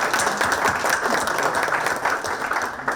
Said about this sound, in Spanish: Un aplauso también, por favor.